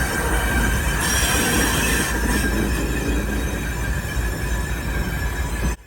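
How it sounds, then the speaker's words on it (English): A BNSF freight train led by GEVO locomotives rolls through the Galesburg rail yard, its wheels squealing loudly and continuously over a heavy rumble of passing cars. "a set of Gevos made up of Gevo number 37 and Gevo 38 pulled out of the yard"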